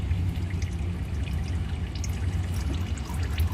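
Engine oil gushing from the drain of a 2017 Honda Brio Satya during an oil change, a steady low pouring stream that runs continuously and close up with no talk.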